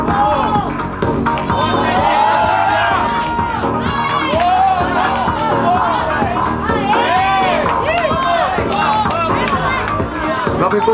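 A crowd cheers on a climber at the final boulder of a bouldering competition, loud and sustained shouting, whooping and rhythmic urging rolling continuously from many voices nearby.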